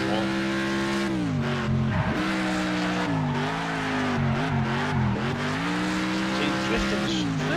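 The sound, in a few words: car drifting, tires skidding in Next Car Game video game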